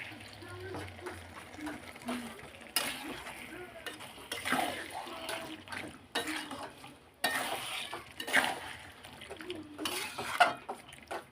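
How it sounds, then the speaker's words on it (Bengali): Potatoes are stirred into a pot of mutton kosha curry, with a spoon scraping and clattering against the pot in irregular bursts and a voice talking faintly in the background. "আমি আলুটা দিয়ে ভালো করে নেড়ে নিই"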